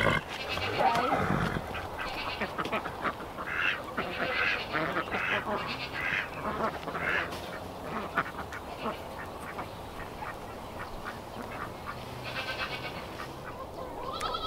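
Ducks quack over a busy farmyard din that also holds goats and other livestock, with repeated calls running steadily and fairly close throughout.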